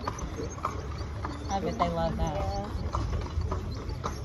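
Horse hooves clip-clop along a town street in Natchez, Mississippi as the animal pulls a buggy, a steady rhythm running under nearby speech and children's voices.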